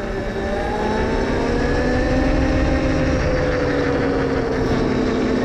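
A 72V electric pit bike rides through snow, its motor a loud, steady whine that rises and bends in pitch as the rider pushes for a wheelie, close by with no pauses.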